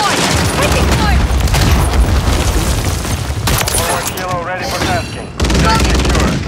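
Call of Duty Modern Warfare 3 multiplayer combat: dense, loud gunfire and blasts rattle without a break, with game voices calling out over the shooting.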